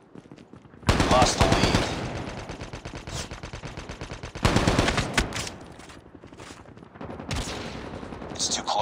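Rapid automatic gunfire from the mobile shooter game Call of Duty: Mobile comes in loud, close bursts separated by brief lulls, with a game announcer voice speaking over it.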